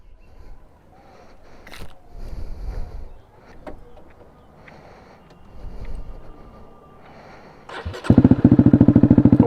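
A Thai-market 2021 Honda CBR with its exhaust removed bursts into a loud, rapid, raw pulsing roar up close after several seconds of faint background shuffling.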